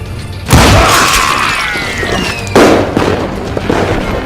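Two loud, sharp gunshots in the Western shooter game Call of Juarez Gunslinger, each a sudden close blast followed by a ringing echoing tail, spaced about two seconds apart.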